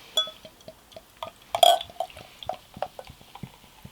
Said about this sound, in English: Let's get it into the glass.